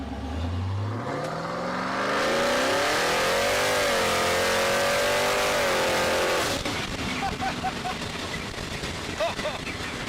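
A Willys with an LSX V8 and a blower revs hard on a quick launch, a loud rising engine roar that climbs and holds for several seconds before cutting off, with people talking faintly around it afterward.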